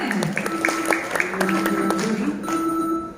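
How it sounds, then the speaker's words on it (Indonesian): Lively applause for a team at a provincial Empat Pilar MPR RI quiz contest in Central Java, dense clapping filling the room under an ongoing voice, with some sustained tonal sound running through. "berikan tepuk tangan yang meriah untuk grup B"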